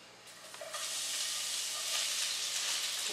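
Spring onions and onion hit hot cooking oil in a pan, starting as a low hiss and swelling after the first second into a loud, steady, broadband sizzle that holds to the end, with no voices.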